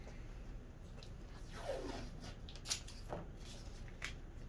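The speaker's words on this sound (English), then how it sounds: "I have my bigger painter's tape that I can put over that." Wide painter's tape being pulled off the roll and pressed down over plastic sheeting in a paint booth, a few quiet ripping strips and soft rubbing sounds up close.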